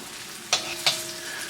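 Chicken stir-frying in oil in a wok, a steady soft sizzle broken by two quick scraping clacks of a utensil against the pan, close and without talk.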